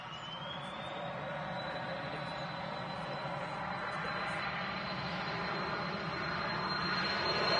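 A business jet at Manchester Airport roars steadily with a rising turbine whine, loud and continuous as it approaches, with faint talk under the engine noise.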